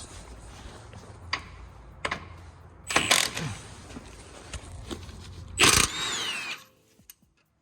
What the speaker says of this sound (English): the next step, which is removing this shock bolt here